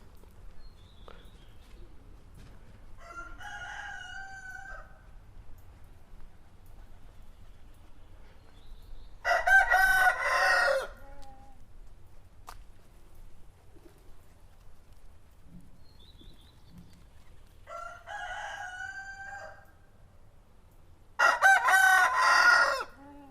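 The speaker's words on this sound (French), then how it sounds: "Un poulailler, donc comme vous pouvez l'entendre." Roosters crow in a henhouse set among tall old trees, two pairs of loud cock-a-doodle-doo calls spaced well apart, with softer clucking and hens' calls between them over a quiet background.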